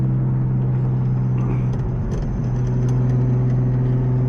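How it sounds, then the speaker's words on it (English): Turbocharged BMW M3 cruising on the road, a steady low engine drone with strong constant hum tones, heard from inside the car with faint rattles and light jingling over it. "the turbo sounds so good"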